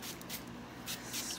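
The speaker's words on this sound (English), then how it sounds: "spray your iron guard all through your hair" Soft, quiet hissing bursts of heat protectant spray misted through curly hair, with a few short puffs spaced across a brief, hushed moment and no voices.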